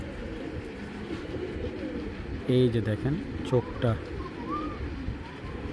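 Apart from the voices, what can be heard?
pigeons cooing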